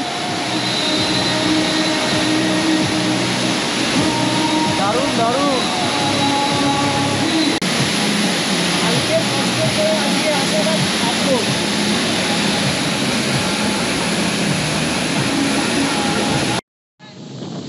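A tall waterfall in Sikkim roars continuously from close range, a dense, loud rushing wash that fills the whole stretch, with a brief voice speaking over it.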